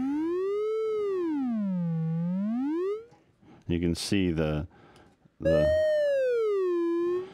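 A pure electronic sine tone whose pitch tracks a moving particle's height, sweeping smoothly up and down like a siren, breaks off briefly for a voice speaking, then returns gliding.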